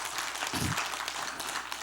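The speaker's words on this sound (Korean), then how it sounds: "박수를 한번 치죠." A church congregation at a New Year blessing revival service breaks into brief applause, a short burst of many hands clapping together with a low thump partway through.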